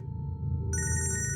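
A phone ringtone begins partway in, a bright repeating electronic trill over a low steady background hum, moderately loud and with no talking.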